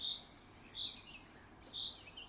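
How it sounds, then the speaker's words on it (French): Birdsong rings out in repeated bright chirps, three clear calls spaced across a couple of seconds over a soft, quiet background hush, with no talking. "au son de ce chant d'oiseau"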